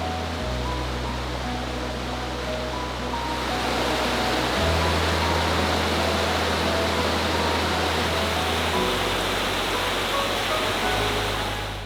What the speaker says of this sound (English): It is rather relaxing hearing the sounds of the river as we make our way along this whole trail.